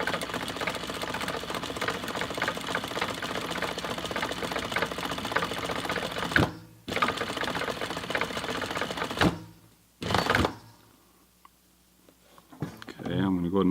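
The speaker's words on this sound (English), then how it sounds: "Okay, I'm starting off real small stitches to lock them in" A sewing machine stitches a straight dart, its needle chattering in a steady rapid whir that stops twice briefly before a final short burst, while someone talks over it.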